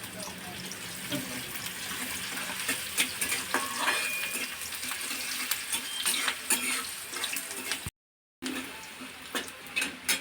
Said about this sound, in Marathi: कांदा लवकर परतण्यासाठी आपण त्यामध्ये मीठ टाकणार आहोत